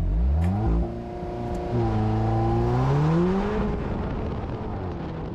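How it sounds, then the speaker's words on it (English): An Alfa Romeo 4C launching with launch control in race mode on an autocross course: a loud engine climbing hard in pitch, broken by quick paddle-shift changes, then pulling and revving up again, close and alone. "I decided it was time to try race mode with launch control using the paddle shifters."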